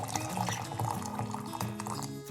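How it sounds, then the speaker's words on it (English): Hot water is poured over magenta plant leaves in a see-through heatproof container, making a steady close filling gurgle with a slowly rising pitch and no speech. "And now I'm going to pour hot water on it"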